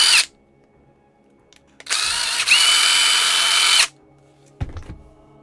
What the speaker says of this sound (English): So we'll just drill it out again.